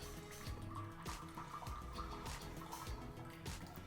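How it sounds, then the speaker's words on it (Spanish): Water from a small watering can falls onto soil in a simulated rainstorm, a steady close patter and trickle with scattered droplet taps lasting several seconds, no voices. "Vamos a echar agua sobre este suelo y vamos a ver qué ocurre."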